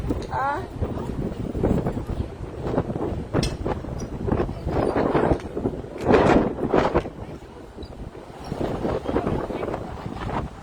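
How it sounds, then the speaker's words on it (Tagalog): Gusty wind on the deck of the Carnival Encounter cruise ship buffets the microphone in rough bursts, rising and falling, with people talking intermittently underneath. "Mahangin man dito."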